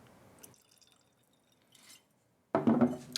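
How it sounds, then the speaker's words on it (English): Old Pulteney 12-year-old whisky poured into a glass, with faint trickling and clinks, then a brief louder splash of liquid near the end, close and otherwise quiet. "let's just pour a little bit and see if I can kind of give you a few notes on the fly"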